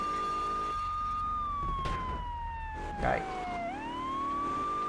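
A police car siren wails in the video game GTA 3, sweeping steadily up and down in pitch and holding loud throughout. Someone briefly speaks over it.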